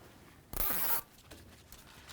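Wire tie zipped tight around a bellows boot on the inner tie rod of a 1998-2002 Honda Accord, one quick ratcheting zip lasting about half a second, close and fairly quiet, then silence.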